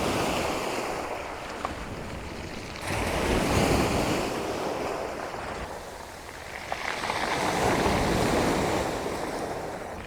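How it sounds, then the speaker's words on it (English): Ocean waves wash up over a pebble beach at sunrise, two rising surges of hissing, rolling water with wind rumble, fairly distant and alone. "I'm using the cable release to time some shots as the waves come up over these pebbles."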